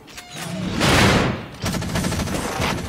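Gunfire from the mech combat video game Front Mission Evolved, a dense burst of loud overlapping shots and blasts lasting nearly three seconds, swelling to a peak and then continuing as a rapid rattle.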